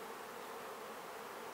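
A steady, dense honey bee buzz, like bees swarming close by at a hive, continuous and even with no other sounds.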